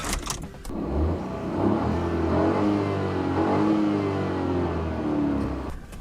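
A 2014 Ford Fiesta with a 1.0L EcoBoost turbo engine starts up close by: a brief crank gives way to a steady, fairly loud engine hum and idle that holds for several seconds.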